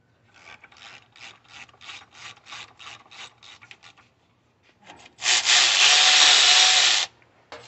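A ratchet wrench loosening a bolt on the power steering pump of a 2004 Chevy Silverado 4.3, with a dozen quick, evenly spaced clicks, then a brief pause and a loud, sustained whirring spin.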